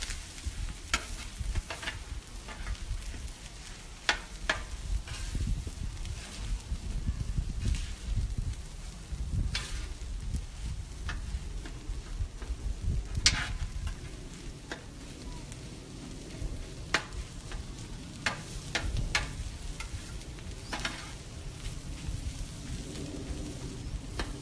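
Food with mild salsa stirred on a hot Blackstone griddle, a constant close sizzle with repeated scraping and clacking of a spatula against the flat top in an uneven rhythm.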